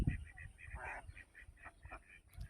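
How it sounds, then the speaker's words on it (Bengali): A duck in a rain-flooded crop field gives a quiet series of short quacks in an irregular rhythm, heard from a distance against faint outdoor ambience. "এই যে দেখো ক্ষেতের ভিতরে হাঁসটি কি সুন্দর করে খেলতাছে।"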